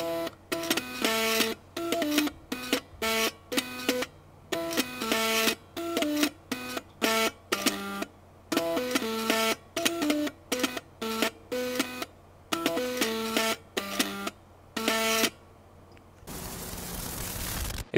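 Floppy disk drives driven by an Arduino play a buzzing, stepper-motor melody in short rhythmic bursts of tones, loud and close, ending in a brief noisy hiss.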